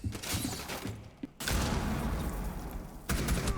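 Gunfire in Rainbow Six Siege: dense, loud bursts of shots and impacts with a brief near-silent gap partway through. A second sustained barrage follows, with a fresh burst at the very end.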